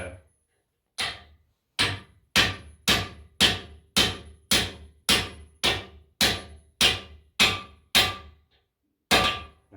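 Carbide tooth being tapped into its pocket on a masticator hammerhead, heard as about fourteen sharp metallic hammer strikes at a steady, near-regular rhythm, each loud and close with a short ringing decay and silence between blows.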